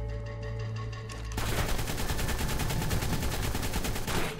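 Rapid automatic gunfire from a weapon in the video game Ark rattles in a fast, steady stream of shots after a brief hum of background ambience, fairly loud and continuous until the burst ends.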